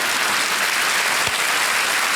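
Studio audience at a Hindi quiz show (KBC season 11) clapping in a steady, dense wash of applause throughout, loud and continuous, with no pauses.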